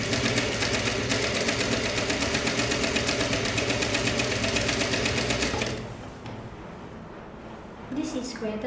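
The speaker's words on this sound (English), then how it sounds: "You sew and then you use the zigzag machine" A zigzag sewing machine runs steadily, stitching the sleeve and curved side seam of a kimono jacket, loud and close with a fast even whir, then stops abruptly near the end, leaving quieter room noise and a brief clatter.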